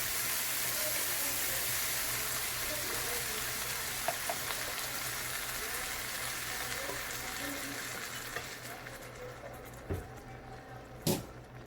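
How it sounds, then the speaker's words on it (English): Heavy cream sauce for penne with chicken, mushroom and spinach coming to a boil in a pan: a steady soft bubbling sizzle, fairly quiet and continuous, with a few faint clinks of a utensil near the end. "I'm gonna let it boil. Just come to boil. So it's boiling."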